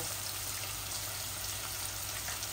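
Steady, even sizzle of garlic cloves frying in hot oil in a pan, continuous and close with no voices.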